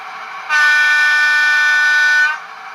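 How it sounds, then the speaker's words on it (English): A single sustained horn blast from a model diesel locomotive, loud and steady for about two seconds, starting and stopping cleanly over a quiet hum. "I'm going to sound one of the horns"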